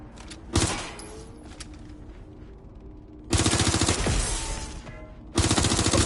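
Gunfire in Watch Dogs: Legion, several loud bursts of rapid automatic shots separated by short lulls, close and harsh, with no talking.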